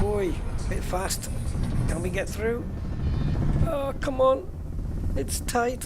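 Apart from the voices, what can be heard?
ship engine rumbling, like old diesel, in video game Elite Dangerous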